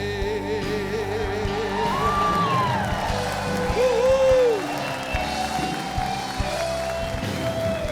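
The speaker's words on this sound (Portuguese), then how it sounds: "Pode continuar aplaudindo." A church congregation applauds in a dense, continuous wash of clapping. Scattered whoops and cheers rise above it, and a low murmur of crowd noise runs underneath.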